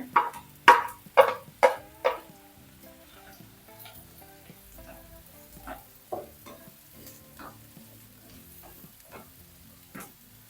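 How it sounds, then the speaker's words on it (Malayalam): Three chopped onions hit hot oil in a pan: a few loud clattering stirs and sizzling bursts at the start, then a quieter, faint simmering crackle with occasional soft knocks. "ചൂടായ എണ്ണയിലോട്ട് ഒരു മൂന്ന് സവാള അത് അരിഞ്ഞതിട്ട് കൊടുക്കേ"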